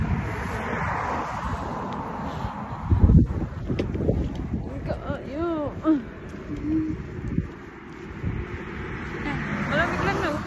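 Gusty wind buffets the microphone in rumbling bursts on a cold, sunny day in rural Japan, about 10 degrees, while people talk nearby, with bird cooing faintly in the background.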